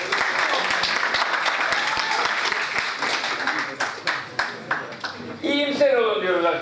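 An audience at a literary reader-author event applauds in a dense, sustained burst that thins toward the end, where a voice starts speaking over the fading claps.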